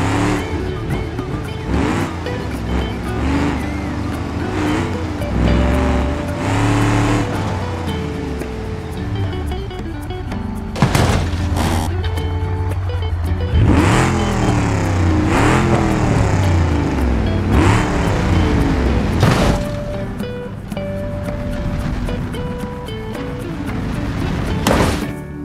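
Burnside Special car in BeamNG.drive driving with a steady engine drone and rising revs, occasional sharp bursts and tire noise, loud and continuous throughout.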